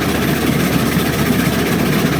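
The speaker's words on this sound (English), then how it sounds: "if you listen on these exhaust sounds, you would think that the Climax was working really hard" Exhaust of a Climax steam locomotive in the RAILROADS Online game, a loud, dense, rapid low chuffing rumble that runs continuously, close up, with no talking.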